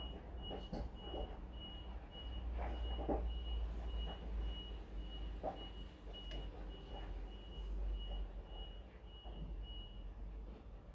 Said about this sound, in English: There's a truck in my driveway, dear Liza, dear Liza